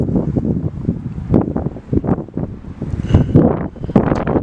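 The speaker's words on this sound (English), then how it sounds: "the wind is gonna come through and destroy the stability of my scope" Gusty outdoor wind buffets the microphone during night-time telescope viewing of a full moon, producing loud, continuous rumbling bursts that rise and fall throughout, with no talk.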